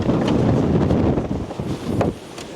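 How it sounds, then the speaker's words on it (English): Strong wind in Cypress Hills, Alberta, buffets the microphone in loud, rumbling gusts that rise and fall over a few seconds. "So it's a little bit windy today."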